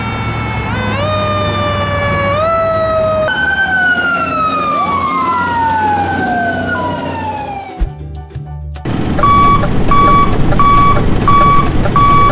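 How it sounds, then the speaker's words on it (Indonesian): A fire engine siren wails loudly and up close, its rising and falling tones sweeping in cycles before switching to a rapid, steady pulsing pattern near the end. "mobil pemadam kebakaran juga memiliki lampu sirine yang bisa menyala dan mengeluarkan suara jika lagi berada di keadaan darurat"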